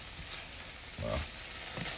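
Crab meat mixed with onion and carrot, wrapped in mashed potato balls, frying in a pan: a steady soft sizzle with a louder crackling burst partway through.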